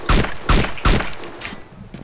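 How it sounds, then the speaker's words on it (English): Three sharp sniper rifle shots in the video game DayZ ring out about half a second apart, each followed by a lingering echoing tail, loud and alone with no talking. "did he just shoot at you again?"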